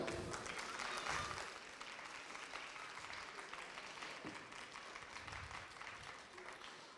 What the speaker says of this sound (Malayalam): ചെറുത് കയ്യടിയാവാം.